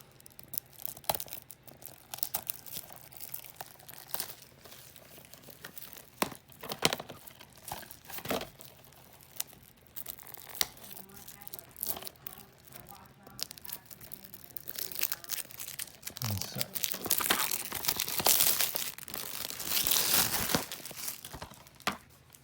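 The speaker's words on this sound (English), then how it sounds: "I'm gonna be unwrapping this game" Plastic shrink wrap is pulled off a PS5 game case up close, giving bursts of crinkling and tearing that grow busier and louder toward the end.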